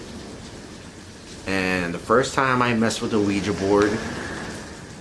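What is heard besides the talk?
rain falling outside in Tampa, Florida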